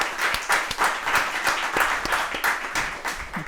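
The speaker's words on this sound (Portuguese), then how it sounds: "ajudem pessoal com uma enorme salva de palmas a agradecer à Sofia" A studio audience at a breakfast talk show gives a thanking guest Sofia a round of applause: dense, even clapping, close and lively, with no voices over it.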